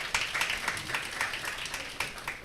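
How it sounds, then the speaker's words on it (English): Audience at a students' summit in Uganda clapping for students, a steady ragged patter of many hands at moderate distance, with a few louder accented claps over a couple of seconds. "Please clap for them."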